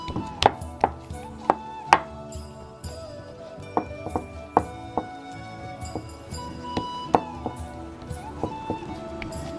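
A knife chopping a minced chicken pakora mixture into pieces on a board, giving sharp, irregular taps that come in quick clusters, close and clear over a quiet background.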